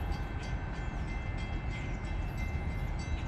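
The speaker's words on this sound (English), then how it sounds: "The next outbound train approaching your station will not stop." A Metra express train led by locomotive 407 rushes through the Midlothian, Illinois station without stopping, a loud steady rumble and rattle of passing cars filling the scene.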